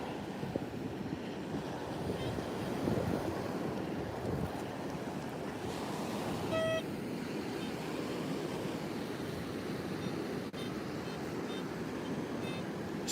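An XP Deus 2 metal detector sweeps a sand-covered beach over what may be a deep iron target with a long response. A short tonal beep sounds midway, with a few faint high chirps later, all over steady surf and wind.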